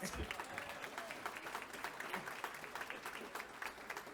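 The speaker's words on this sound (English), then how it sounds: "So if you guys could give him a clap, that would be really great." An audience at an awards celebration claps together, a moderately quiet, steady patter of many hands with faint crowd murmur and a little talk mixed in.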